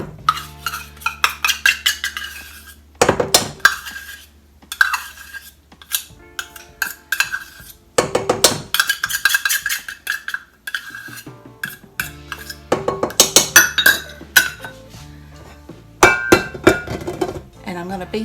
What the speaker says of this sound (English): I'm going to beat this until it's all creamy